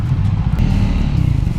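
A Triumph Speed 400 motorcycle engine runs steadily up close, a low, even rumble with a faint mechanical clatter and no talking.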